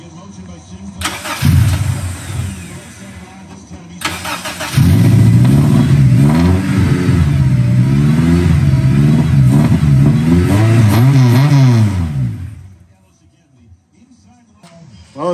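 A K-swapped Honda Integra with individual throttle bodies cranks and fires, then revs repeatedly in rising and falling surges at close range before dropping off to quiet.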